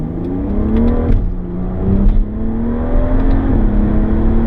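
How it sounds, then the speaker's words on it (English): A BMW 135i tuned with a Cobb Accessport pulls away from a stoplight, its engine note rising steadily inside the cabin, dipping briefly at a gear shift and then climbing again, loud and continuous. "Alright, we're at a stoplight here. I'm gonna give a little bit of gas."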